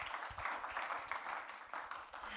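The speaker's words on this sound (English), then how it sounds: "Please give him a big applause for the end." An audience at a startup pitch competition claps steadily, a soft, distant patter of applause with no voices.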